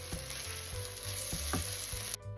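Lamb kidney fry with garam masala and a splash of water sizzles steadily in a pan nearby, with a few soft clinks of stirring over the continuous crackle and no voices.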